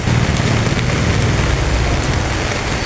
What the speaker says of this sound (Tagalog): Grabe yung ulan mga kalabjoy.